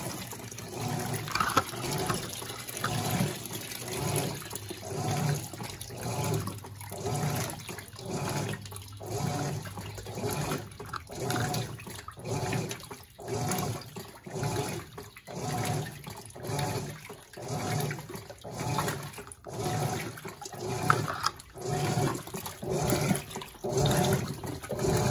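A 12 kg Electrolux Blue Touch washing machine fills with hot water for the first rinse, a steady rushing inflow with faint sloshing that continues unbroken at close range.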